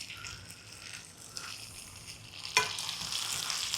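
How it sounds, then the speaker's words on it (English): Fresh fish fillets sautéing with garlic in a pan, a steady close sizzle that swells louder after a sharp clack near the end as the fish is moved, no talking. "Put a little bit of garlic there in the center. Let that saute a minute. Then we'll just drag them through that garlic."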